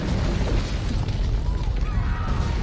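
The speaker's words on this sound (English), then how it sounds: "Oh, it's the earthquake." Earthquake rumble in Assassin's Creed Rogue, a continuous deep roaring rumble with crackling debris, steady and loud throughout, with faint voices mixed in.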